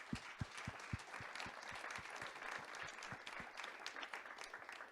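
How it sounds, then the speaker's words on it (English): A conference audience applauds a panel, with dense, even clapping that stays faint and distant throughout. "I'd like for you all to join me in giving the panel a round of applause."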